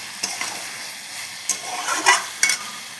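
Chicken being stirred and fried in a pan for a Bengali kosha dish, with soft scraping strokes and a low, steady sizzle, a few louder stirs standing out near the end.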